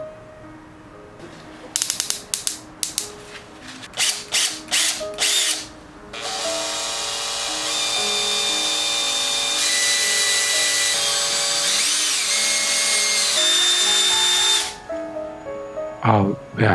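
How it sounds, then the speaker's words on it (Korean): A power drill bites into a Daiso kitchen knife blade to bore an air hole: short stuttering bursts first, then a long, loud, steady whine that cuts off near the end. "이제 대충 준비가 다 된 것 같으니 칼에 바람구멍을 만들어 주도록 하겠습니다"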